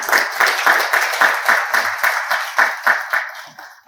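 Rhythmic clapping from a small audience at a conference presentation, a steady burst of applause close by that fades out toward the end.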